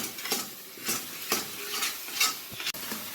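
A spoon stirs a thick mixture of carrot and rice flour in a pan, making a steady scraping sound with soft sizzling underneath. The strokes come in repeated, rhythmic sweeps, close by, with no talking.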